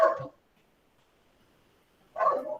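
Dogs barking in a home, two short bursts of barking separated by about two seconds of near silence, moderately close.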